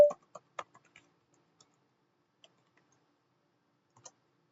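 A few light clicks on a computer keyboard type out a short login command on a Linux machine, quiet, close and sparse, with a final isolated tap after a pause.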